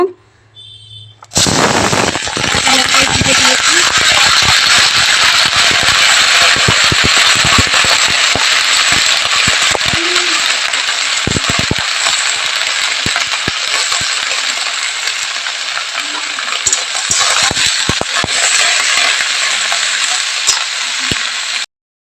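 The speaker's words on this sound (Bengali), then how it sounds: "এটা ভাজা করে নিব" Spring onion and potato fry in a pan, a loud, continuous close sizzle that starts abruptly after a quiet moment and runs steadily for about twenty seconds, dotted with sharp clicks and pops, then cuts off.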